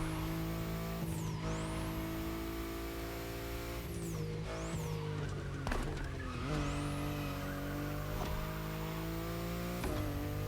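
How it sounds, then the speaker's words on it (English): BMW i8 sports car driven in a racing video game, a steady synthetic engine drone with rising and falling revs, several sharp tire squeals and skids, and gear changes across the run, loud and up close. "The BMW i8 is a car that stands out from the crowds."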